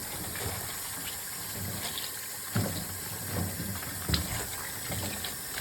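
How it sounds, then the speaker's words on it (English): Cabbage leaves rinsed one by one under running water, a steady faint trickle and splash with a few louder sloshes as the leaves are handled. "now I am going to wash my cabbage leaves slightly."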